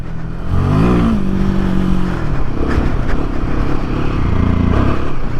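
A 2024 Royal Enfield Himalayan single-cylinder motorcycle revs hard as its rear tire is kicked out into a slide. The engine is loud and close, its pitch rising and wavering under throttle with some clatter.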